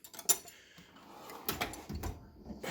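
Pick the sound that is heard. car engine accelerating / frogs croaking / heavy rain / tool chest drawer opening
tool chest drawer opening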